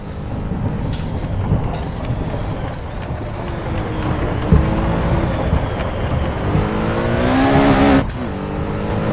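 A 1970 Porsche 917K race car engine roars steadily in an Assetto Corsa recreation of the Le Mans race, the revs rising and falling through gear changes, loud and close with no talking.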